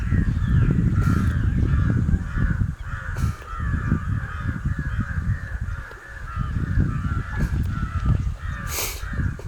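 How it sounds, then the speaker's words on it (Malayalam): Several crows caw loudly and repeatedly, harsh calls overlapping in a busy, continuous racket outdoors. "കാക്കേനെ ഓടിക്കുന്ന കാക്ക"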